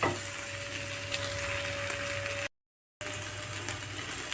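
A roast of jackfruit seeds is stirred in a frying pan, giving a close, steady sizzle with a constant hiss and faint scraping. A brief moment of total silence breaks it before the sizzle resumes.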